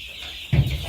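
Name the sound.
baby chicks peeping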